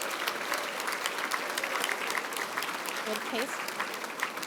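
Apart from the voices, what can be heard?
audience applause for award nominees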